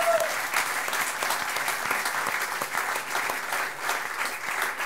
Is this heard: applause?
yes